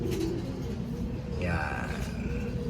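Racing pigeons coo in short, low, throaty phrases at a loft ahead of a derby race, with background voices and ambient noise running underneath.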